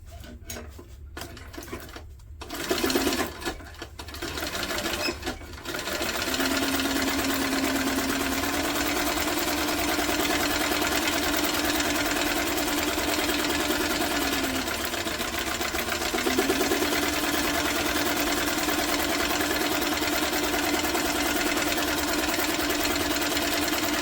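A sewing machine stitches a tote bag, a few starts and stops at first, then a steady, continuous mechanical whirring hum that runs on evenly and close by, with no talking.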